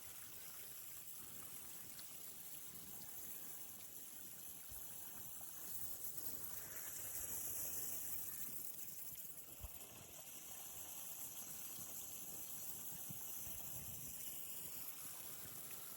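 Drip irrigation water falls onto a groundnut field in a faint, steady trickle and hiss, continuous and low with no voices.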